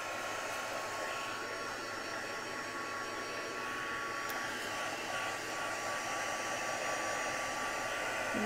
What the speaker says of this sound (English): I'm just going to use my dryer.